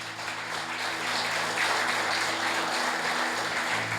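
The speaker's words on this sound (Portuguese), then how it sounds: "Aplauda o Senhor" Congregation applause at a church service, a moderate wash of clapping over a low steady hum, continuous for a few seconds.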